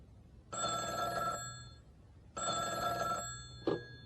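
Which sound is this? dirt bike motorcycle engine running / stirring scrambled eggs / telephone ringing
telephone ringing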